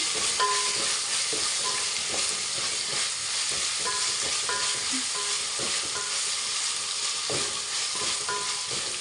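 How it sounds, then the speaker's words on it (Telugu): Steady sizzling of a bagara rice dish frying in a pan, with spoon strokes stirring dry coconut powder through it; the frying hiss runs continuously while scraping knocks come at irregular intervals, close and fairly loud. "ఒకసారి మొత్తం కలిపేస్తున్నాను"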